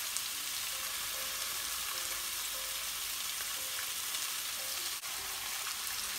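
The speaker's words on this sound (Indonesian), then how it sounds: "Ditumis sampai ayamnya berubah warna." Loud continuous sizzling of chicken stir-frying in a hot pan, with faint scraping of stirring and a brief clunk near the end.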